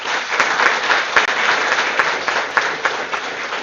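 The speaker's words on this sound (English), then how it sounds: "Please everyone welcome our chief guest with a round of applause." Applause from a conference audience welcoming a chief guest at an inauguration, a continuous brisk patter of many hands clapping at even loudness.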